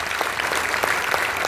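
An audience at a literary society's foundation day function claps steadily, dense even applause filling the hall for a moment with no voices over it.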